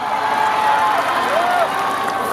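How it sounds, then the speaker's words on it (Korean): Applause and cheering from an audience at the Pyeongtaek rock festival, a continuous, fairly loud wash of clapping with a thin whistle-like tone rising above it. "박수!"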